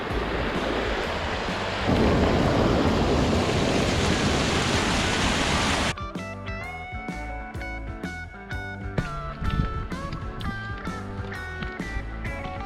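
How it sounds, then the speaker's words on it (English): Waterfalls surrounding a mountain trail among green grass and aspens, giving a loud steady roar of rushing water that cuts off abruptly into a faint, quieter stretch. "We're pretty much just surrounded by waterfalls."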